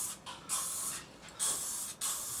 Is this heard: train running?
no